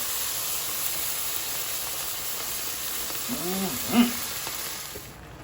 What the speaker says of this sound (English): we're going to add half of our chicken stock into our pan. It's going to steam up for you.